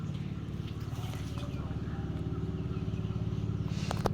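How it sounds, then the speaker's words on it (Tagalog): A motorboat engine chugs along a river in a steady low putter that grows slightly nearer, with a few clicks and splashes near the end and people talking over it. "May bangkan din motor po."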